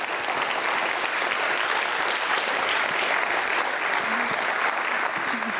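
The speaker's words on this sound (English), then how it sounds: "Let's give them another round of applause." An audience at a college speaker-series event on Holocaust remembrance and student research applauds, with loud, dense, steady clapping filling the whole stretch.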